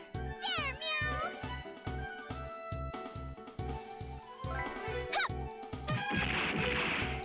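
A cat meows in the game Rhapsody: Marl Kingdom Chronicles, short mews layered over pulsing game music and chiming effects, with a voice talking over it.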